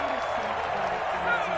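Football crowd in a stadium cheering and clapping after a Miami first down, a steady, dense wash of applause and voices at moderate distance.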